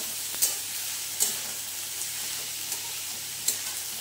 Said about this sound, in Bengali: বিট আর গাজরটা ভালো মতন কষে নিয়ে জল দিয়ে এটাকে সেদ্ধ করে নেব।